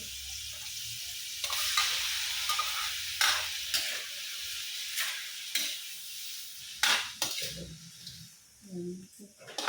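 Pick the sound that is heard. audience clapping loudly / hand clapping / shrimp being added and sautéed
shrimp being added and sautéed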